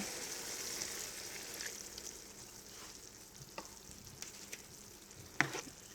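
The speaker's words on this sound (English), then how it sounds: "I'm just going to add some more of the vegetable stock and get this stirred up" Vegetable stock being stirred into a puffball mushroom stir-fry with onion, garlic and cashews, a quiet continuous sizzle with intermittent spoon scrapes and one sharper clack near the end, close and fairly faint.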